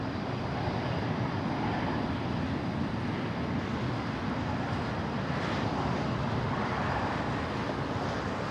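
Emirates flight 216 departing LAX for Dubai, a steady broadband jet roar heard from a distance with wind noise, constant in level throughout and with no voices.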